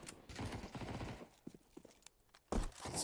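Scout sniper rifle shots in a Counter-Strike 2 match, heard as a few sharp cracks among busy game noise, with one louder report near the end.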